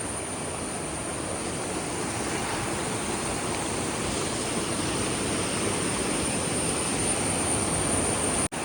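River water at Kabbinale rushing under high pressure makes a loud, steady broadband roar that fills the whole stretch without letting up, then cuts off abruptly at the very end.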